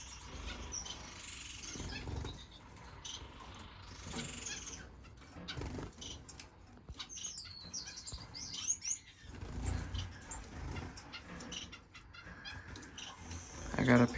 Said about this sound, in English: I got a pair of star finches in here.